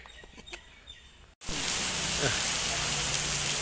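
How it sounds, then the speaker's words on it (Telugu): After a brief quiet stretch with faint chirps, a sudden loud, steady hiss of rain in Shillong, Meghalaya takes over and continues unbroken. "మేఘాలయలో వర్షం"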